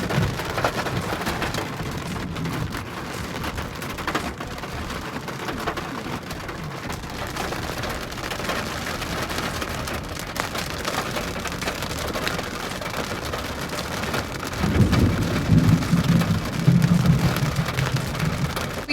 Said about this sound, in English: it is raining like really bad